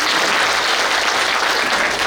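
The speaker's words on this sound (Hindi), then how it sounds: "मैं चाहता हूँ एक बार आप हमारी अस्मिता दीदी के लिए भी ताली बजाएं," Audience applause at a Brahma Kumaris spiritual gathering in Phulbani, a dense, steady clapping from a large crowd filling the whole moment without any voices.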